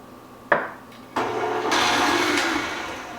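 Electric mixer beating an egg and vanilla extract into gingerbread cookie dough in a bowl, starting with a sharp burst, then a brief pause before a steady, loud whirring hum that runs to the end.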